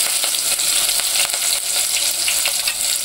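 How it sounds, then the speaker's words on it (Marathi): Green chillies frying in hot oil for a wild-vegetable (ranbhaji) dish, giving a steady, close crackling sizzle with sharp pops throughout and no talking. "सगळ्यात अगोदर आपण तेलात मस्तपैकी तळून घ्यायची"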